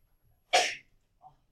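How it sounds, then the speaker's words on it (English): A single sharp human sneeze bursts out loud and close during a trigonometry lesson, followed by a brief faint breath or murmur a moment later in an otherwise quiet room. "No fun to hurt yourself when you sneeze."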